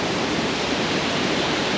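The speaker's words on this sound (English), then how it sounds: "I think we've got a little waterfall there." A small waterfall in the Vosges Mountains pours with a constant, dense rushing hiss, loud and close, unbroken throughout with no voices.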